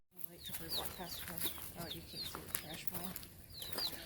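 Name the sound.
chickens clucking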